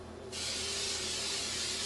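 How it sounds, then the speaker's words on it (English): Olive oil cooking spray hisses steadily onto a heated pan, a close, continuous broadband spray that starts abruptly after a brief quiet moment and holds for the rest of the clip. "I'm going to spray it with a little bit of this olive oil, cooking spray."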